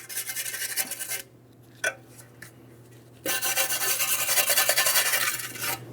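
A rear wheel hub mounting surface on a 2008-2016 Chrysler Town & Country is cleaned with a rasping rub, two sustained scrubbing bursts separated by a brief quiet pause with a few light scrapes, close and steady.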